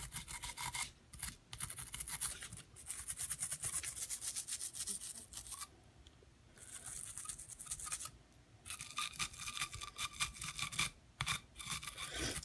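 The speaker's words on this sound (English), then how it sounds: "start giving this a nice good scrub. Get a lot of this carbon off right here." A brush scrubbing carbon off rifle parts, with steady rapid bristle strokes in bursts and short pauses between them, close and fairly quiet, with no talking.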